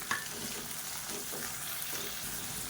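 Chopped onion sautés in a masala for idli upma, a steady close sizzle with soft scraping stirs running throughout, no voices.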